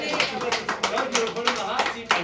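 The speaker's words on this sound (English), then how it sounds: "And clap it up" Audience at a Boston comedy game show claps for a contestant, a dense, steady patter of many hands with a few louder bursts, mixed with talk and voices over the top.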